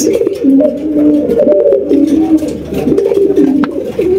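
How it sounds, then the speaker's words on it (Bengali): Pigeons at a market sale, including a checker Damascene, coo loudly and close by in overlapping, continuous rolling calls with no break. "এখানে কিন্তু সিঙ্গেল একটা চেকার দামাসিন কবুতর আছে দেখতেই পাচ্ছেন"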